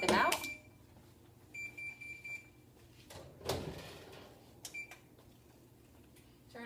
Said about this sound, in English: Turning my timer off.